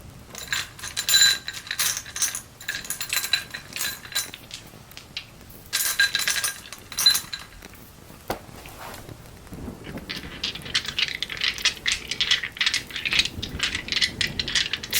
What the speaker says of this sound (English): Let's roll some other dice.